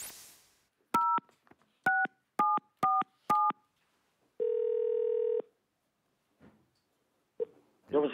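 A telephone, called the red phone, dials out on a TV talk show with five short touch-tone beeps, then a long ringback tone, and a faint pause before a voice answers on the line.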